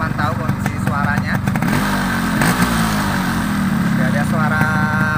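A well-kept, all-original 2004 Yamaha RX King two-stroke with a stock exhaust revs loudly and steadily up close, its engine note rising and falling while a person talks over it.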